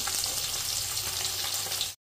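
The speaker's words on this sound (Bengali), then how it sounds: "একদম লাল লাল করে কড়া করে ভাজছি" Fish frying crisp and deep red in a pan of hot oil, a dense steady sizzle and crackle filling the whole stretch before cutting off abruptly.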